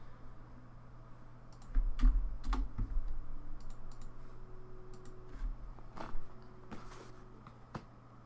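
A computer keyboard clicks as a script types coordinates, irregular light taps and clicks scattered over several seconds, close and fairly quiet above a low hum, with a few louder strikes.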